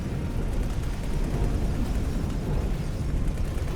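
Spaceship weapons fire and explosions in the space game X4: Tides of Avarice, a dense, continuous rumble of blasts and booms with no clear breaks, loud and sustained.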